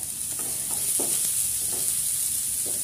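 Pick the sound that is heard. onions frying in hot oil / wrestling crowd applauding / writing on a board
onions frying in hot oil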